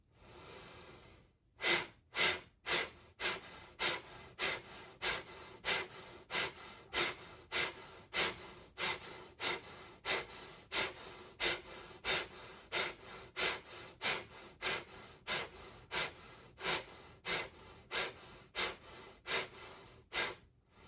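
Deep guided breathing in a meditation session: a long run of about thirty forceful, evenly paced breaths, each a loud close-up rush of air, repeating steadily without talk.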